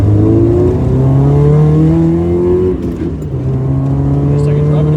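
Slammed Nissan S13 Silvia with an SR20DE engine heard from inside while driving, a loud, steady raspy drone whose pitch slowly climbs, dips briefly on a shift, then climbs again.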